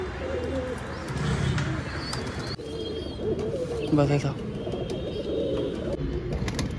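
Pigeons coo in a loft where a chick has fallen, repeated low coos mixed with faint chirps while someone speaks over them.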